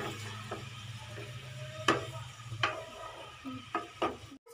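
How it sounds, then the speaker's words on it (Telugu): A spoon stirs onions and chillies in a pan over a low sizzle, with several sharp scraping clacks against the metal spaced a second or so apart, close and without talking. "ఇప్పుడు మనం కలుపుకుందాం ఫ్రెండ్స్."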